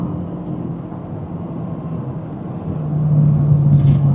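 Old Toyota Corolla engine pulling steadily in third gear along a narrow back road, a continuous low droning rumble heard from inside the car that swells in loudness and pitch toward the end, with no talking.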